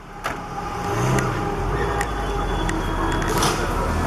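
A Subaru car pulling away from a parking spot on a city street, its engine rising to a steady, loud hum close by, with a few sharp clicks and knocks over the top.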